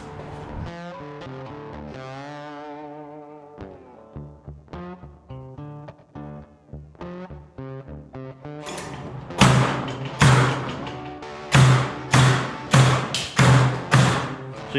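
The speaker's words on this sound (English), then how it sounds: "so I'll nail one side, clamp it together, bang it over," Nails being hammered into interior wall framing studs during a house build: a run of loud, close, evenly spaced blows in the second half, over background music.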